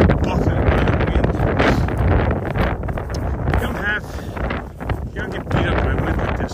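Strong wind buffets the microphone on an exposed mountain summit along the Appalachian Trail near Roan High Knob, a continuous heavy roar and rumble throughout, with a person speaking faintly underneath.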